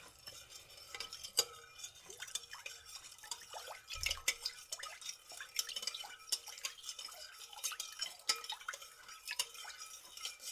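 A spoon stirs citric acid into water to dissolve it for a homemade cleaning spray, giving faint, irregular light clinks and small liquid drips throughout, with no talking.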